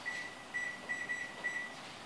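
A kitchen timer is set while baking, giving several short, high electronic beeps at an uneven pace, faint over a quiet room hum.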